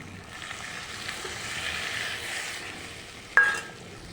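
Rohu fish frying in spices sizzles steadily in a pan, then water is poured in with a sudden loud hiss that slowly fades back to a gentle crackle.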